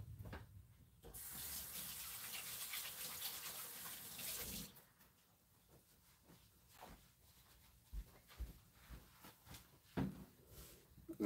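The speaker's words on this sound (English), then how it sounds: "let me go wash my hands so I'm not getting dirt and stuff on his face" Hands are washed under a running tap, with a soft steady stream of water for a few seconds, then quieter clattering and handling sounds as the water stops.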